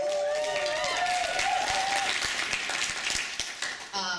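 An audience at a talk claps and applauds, a dense wash of clapping throughout, with a sustained tone under the start and a voice briefly at the close.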